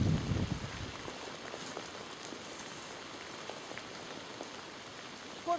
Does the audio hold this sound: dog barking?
no